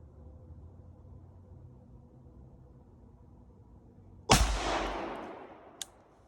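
A single loud rifle shot from a Mossberg 224 Valkyrie fired during zeroing at a range, a sharp crack with a decaying tail after quiet background hum, followed by a faint brief click.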